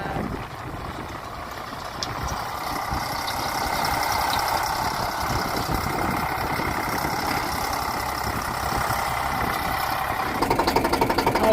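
A tractor engine runs steadily while reversing, a continuous close rumble that grows louder partway through, with rapid knocking pulses near the end.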